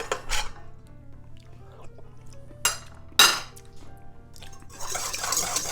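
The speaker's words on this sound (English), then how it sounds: "Now let me get a spoon here real quick. Next I'll get a few" Metal spoons clink and rattle as several are gathered up in a kitchen during salad-making, a few sharp clatters with short pauses between, close and fairly loud.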